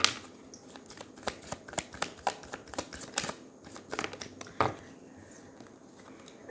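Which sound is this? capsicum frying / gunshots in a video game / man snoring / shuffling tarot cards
shuffling tarot cards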